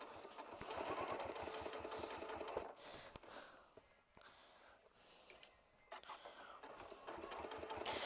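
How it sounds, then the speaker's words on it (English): A sewing machine stitching seams on sampler quilt squares runs in close, rapid mechanical bursts, pausing briefly between runs and restarting, with faint talk in the background. "We're going to lower our foot and we're going to start sewing, and then I'm going to back stitch."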